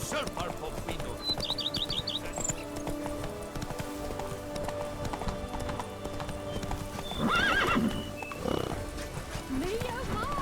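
Hooves clip-clop from Roach, the horse in The Witcher 3: Blood and Wine, mixed with a whinny and small bird chirps, all steady and close under ambient game sound, with no talking.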